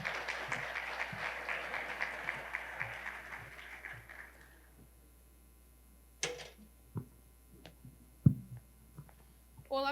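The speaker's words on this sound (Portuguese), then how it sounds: "Uma salva de palmas para eles, pessoal." Audience applause for a security summit panel fades out after a few seconds, leaving a quiet room with occasional knocks, taps and microphone handling noises.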